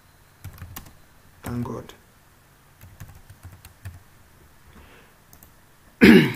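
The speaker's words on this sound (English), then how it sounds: "Let's type what we want." Someone types on a computer keyboard in sparse, scattered bursts of soft clicks and keystrokes, with a brief spoken phrase and some quiet vocal noises between them.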